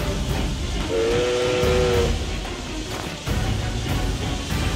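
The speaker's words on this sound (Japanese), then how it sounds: "蒸気装甲車オブシディアンだ。" The steam armored car Obsidian in Octopath Traveler II lets out a single long steam whistle blast over a loud rumbling, hissing machine din.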